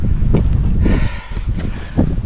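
Strong wind gusts roar and buffet the microphone on a mountain trail in Tasmania's Overland Track, a loud continuous rumble with rustling surges and no talking.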